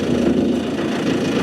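A tractor engine runs steadily while driving an auger attachment digging dirt, a continuous mid-pitched drone with a low rumble and no talk, holding even through the short stretch.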